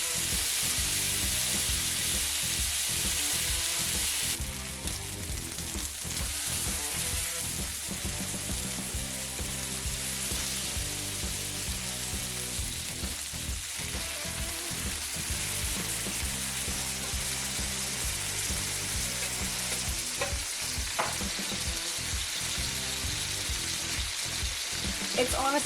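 Three strips of bacon fry steadily in a pan, a dense, continuous crackling sizzle that runs the whole time with no voices, growing slightly busier partway through.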